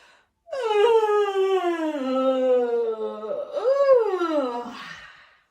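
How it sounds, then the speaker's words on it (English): A long, noisy yawn drawn out with a sliding pitch, followed by a second rising-and-falling yawn, several voices blending together. "a big noisy yawn"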